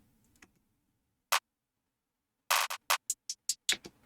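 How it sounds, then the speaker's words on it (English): Beat intro in which a sharp clap lands alone and a short hi-hat pattern then enters with a quick run of crisp, bright hits, close and dry against near silence. "I just brought the end of the hi-hat pattern to come in when"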